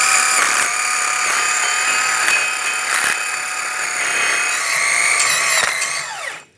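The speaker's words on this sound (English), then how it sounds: "I am going to take a wire brush and clean up the hub surface." A power-driven wire brush scrubs the rear brake hub surface of a 2007-2014 Cadillac Escalade, a loud steady whine with rhythmic dips as the brush bites, then spinning down to stop at the end.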